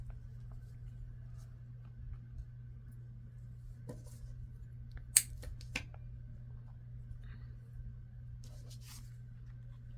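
Scissors cut through a piece of craft material in a few quiet, sharp snips clustered in the middle of the clip over a low steady hum, with no talking.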